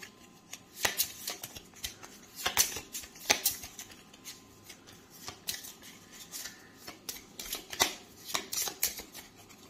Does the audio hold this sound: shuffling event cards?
yes